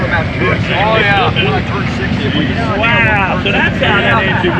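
A motorcycle engine runs at an outdoor breakfast ride meet, a steady low rumble with windy noise underneath while people talk loudly over it throughout.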